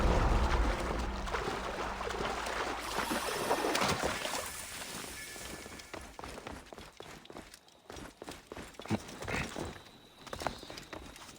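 Character swimming in water in the video game Assassin's Creed Origins, with rhythmic splashing strokes and sloshing under a soft ambient bed, fading and becoming sparser toward the end.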